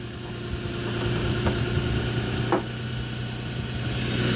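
A 2007 Nissan Pathfinder with a 4.0 V6 and five-speed automatic transmission idles steadily with a low hum and a faint sustained whine, recorded close with a couple of brief clicks.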